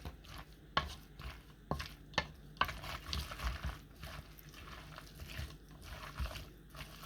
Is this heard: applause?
no